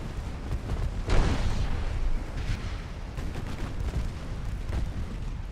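Torpedoes launched in the naval warship game Ultimate Admiral Dreadnoughts, a run of heavy booming blasts and rumbling bursts that rise sharply near the start and roll on steadily, loud with no voice over them.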